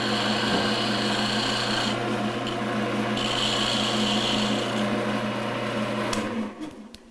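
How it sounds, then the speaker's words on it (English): A round woodturning tool scraping the edges of a wooden pen spinning on a lathe, a steady loud rasping hiss that runs continuously, then cuts off near the end. "now I'm going to clean up the edges with the round tool again"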